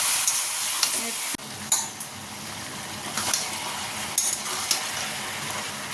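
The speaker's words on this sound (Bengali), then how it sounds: "এই যে সবজিগুলো ভাজা ভাজা হয়ে গেছে" Vegetables, including snake gourd, sizzle in a hot pan with a steady hiss, broken by a few sharp scrapes and stirring clinks close by.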